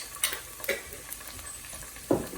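Ginger-garlic paste fries and sizzles in a pan as a spoon stirs it, giving a few scraping strokes over a steady low hiss, close and fairly quiet.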